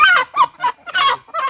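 A fighting rooster of a good breed, raised on a farm, gives several loud, harsh honking calls close by in quick bursts, with no talking.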